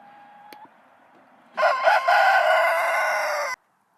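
A rooster crows loudly and close by, one long sustained call, after a short stretch of quiet farmyard background with faint clucking.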